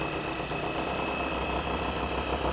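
A car paint polisher hums steadily at its lowest speed setting on neglected, dull automotive paint, a continuous even motor drone with a faint high whine running throughout.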